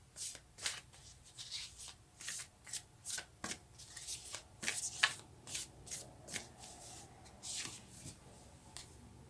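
Tarot cards are shuffled to draw one, giving a quiet, close rhythmic series of soft slaps and riffles roughly every half second, with no speech.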